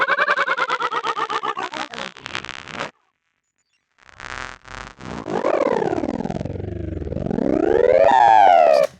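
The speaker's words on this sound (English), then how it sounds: "It's a really weird sample that I've created by mangling a sample I made on the Neutron" A weird mangled sample originally made on a Neutron synth and heavily processed with effects, played in Serum 2: a buzzy pulsing burst, a brief silence, then stuttering tones and a swooping pitch that dips and climbs like a siren, close with no talking.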